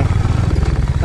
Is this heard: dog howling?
no